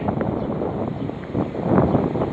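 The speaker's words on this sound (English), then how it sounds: "Something I didn't expect: the wind." Gusty wind buffets an outdoor microphone, a steady low rumble that swells louder toward the end, with no talking.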